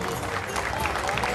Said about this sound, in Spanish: Se llevan el aplauso de todo el público que está aquí sobre calle Avenida Mitre